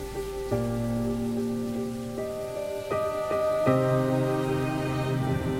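Steady rain patters on surfaces throughout, partly masked by a sustained musical score playing over it.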